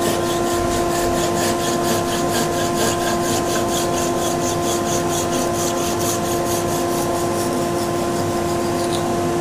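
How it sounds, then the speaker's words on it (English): Wooden log vase on a lathe being parted off with a pull tool, giving a steady, continuous scraping and cutting whir over the constant hum of the lathe motor, loud and close throughout. "we'll part this off with, or finish the cutting off process with a pull tool"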